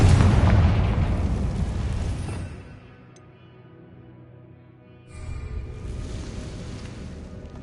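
A Confringo blast spell in Hogwarts Legacy erupts as a loud, deep explosive boom that rumbles and decays over a couple of seconds, followed by near silence, then a renewed mid-level rumbling wash of game ambience.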